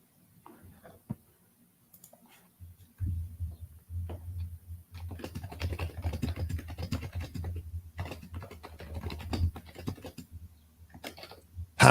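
Fast, dense typing on a computer keyboard, with close, loud key strikes clattering steadily for most of the stretch after a few scattered clicks at the start.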